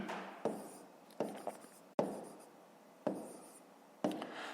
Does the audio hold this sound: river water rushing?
no